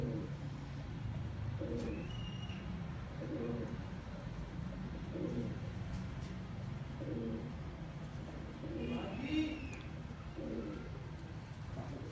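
A kept pigeon coos low and soft in repeated, evenly spaced rounds, a few light chirps breaking in now and then against a quiet backdrop.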